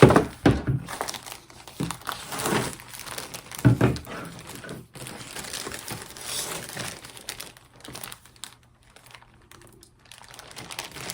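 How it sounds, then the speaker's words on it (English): Crinkly plastic packaging of a project bag from an advent box is handled and opened, giving close, irregular bursts of crackling and rustling that taper into lighter rustles. "And something crinkly like a project bag."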